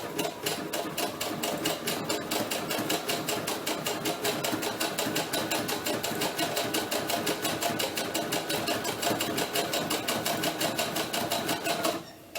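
A sewing machine runs steadily for about twelve seconds, stitching the sleeve of a doll T-shirt in a straight knit fabric. The needle rattles in a fast, even rhythm, close and loud, before stopping abruptly at the end.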